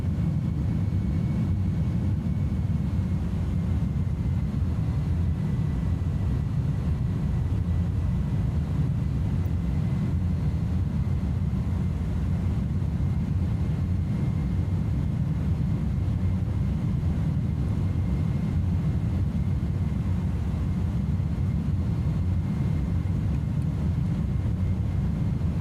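Steady low rumble of an Aer Lingus Airbus A310 in flight just after takeoff in Microsoft Flight Simulator 2020, a continuous engine drone filling the low end with no other sounds.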